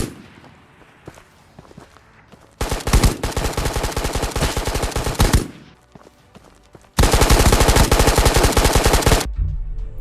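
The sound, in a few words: machine gun gunfire in Ghosts of Tabor video game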